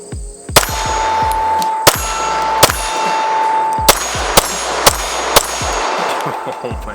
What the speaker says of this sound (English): I couldn't even tell you the last time I shot a comped gun like this.